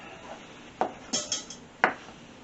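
Knife chopping rinsed mushrooms into slices on a cutting board while making Thanksgiving stuffing, a few separate sharp close thuds spaced irregularly, with no talking.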